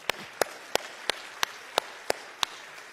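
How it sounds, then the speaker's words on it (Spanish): During a church sermon, eight crisp, evenly spaced claps ring out at a steady rhythm of about three per second, sharp and isolated rather than a dense crowd ovation. "Dale un fuerte aplauso al Señor"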